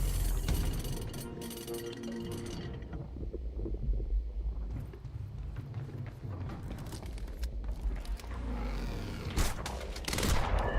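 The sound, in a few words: gunfire in Quantum Break video game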